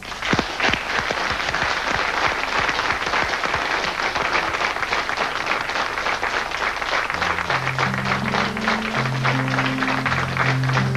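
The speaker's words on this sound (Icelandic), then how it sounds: "Við skulum klappa vel fyrir þeim" An audience applauds performers about to sing a song together, loud, dense clapping held for the whole stretch, with the first sung notes entering underneath toward the end.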